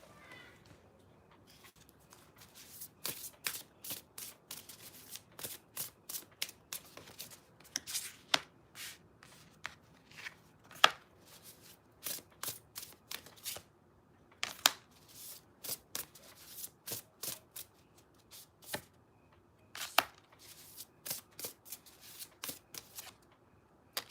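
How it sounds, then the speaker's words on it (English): Tarot cards being shuffled up close, a long run of quick riffling snaps and soft slides in uneven bursts, with no talking over them. "Let me pull some cards here."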